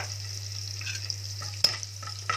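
Garlic fries in a pan for Egyptian koshari, giving an even, crackling sizzle under a low electrical hum, broken by a sharp metallic clank partway through and a few lighter utensil taps.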